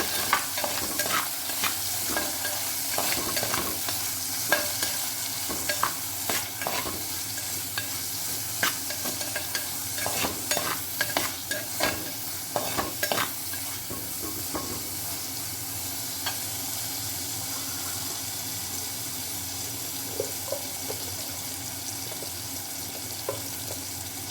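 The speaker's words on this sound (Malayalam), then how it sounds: "ഒന്ന് വഴറ്റി കൊടുക്കണം" Steady loud sizzling of chopped ivy gourd frying in a pan, with frequent scraping and clicking stirs throughout.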